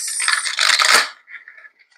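A deck of angel cards is shuffled by hand, a dense riffling clatter of cards for about a second, then a few softer, quieter flicks as the cards settle, close and alone with no talking.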